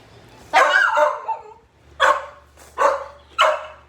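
A dog barks loudly and close by in four sharp bursts, the first longer and rougher, the rest short and evenly spaced, over a low steady hum.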